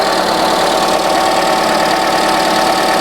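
A car engine idles with a steady, even hum and faint ticking, loud and close with no change in pitch throughout.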